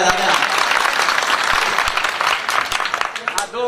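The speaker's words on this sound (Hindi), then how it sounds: "एक बार जोरदार तालियां बजाते हैं।" Loud, sustained audience applause rings out at a live Hindi singing performance, a dense, continuous clatter of clapping hands that carries through the whole stretch with a voice faintly mixed in.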